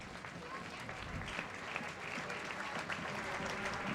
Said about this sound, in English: Much applause.